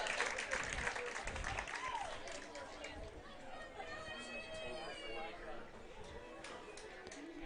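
Fans at an ultimate frisbee exhibition game between Portland Rising and New York Gridlock cheer and clap from a distance, a faint, diffuse crowd roar with scattered claps and shouts, fading slightly over several seconds.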